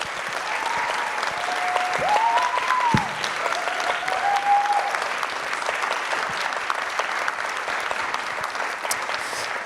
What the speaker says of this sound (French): Je vous demande donc d'accueillir et d'applaudir Amandine Gay.